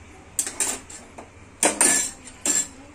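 Metal spoon clanking against a pan while stirring cumin-pepper powder, several sharp scraping clinks in short bursts separated by quieter pauses, close and fairly loud.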